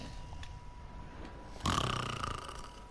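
Francis, a character in a video game, snores once with a short rasping intake, then a louder drawn-out snore near the close, quiet and close.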